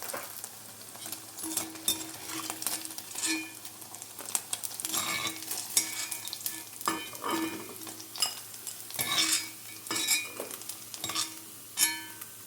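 Flour-coated paneer and mushroom pieces fry in hot oil for fried rice, with a steady close sizzle and repeated clinks and scrapes of a utensil stirring in the pan throughout.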